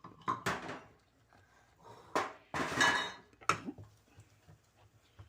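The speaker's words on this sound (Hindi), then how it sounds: "ये देखें, मैं उसी देर से चम्मच हिला रही हूँ।" Metal spoon stirring and scraping a pan of milk powder, egg and semolina halwa, a few sharp clinks and scrapes in separate bursts with quieter pauses between, close by.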